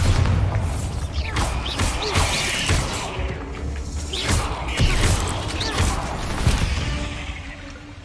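A Bombarda blasting spell goes off amid battle in Hogwarts Legacy, with repeated sharp booming bursts and crashing impacts spread across the clip over a dense game soundscape.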